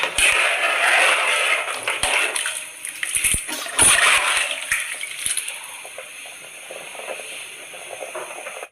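Rice tipped into a pot of boiling masala water for wedding-style vegetable pulao, giving a burst of splashing and sloshing with a few clinks, then settling into a softer, steady bubbling hiss.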